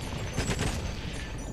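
A rapid burst of gunfire in GoldenEye: Rogue Agent crackles through a dense, noisy mix, loud and close, with overlapping shots running the whole way through.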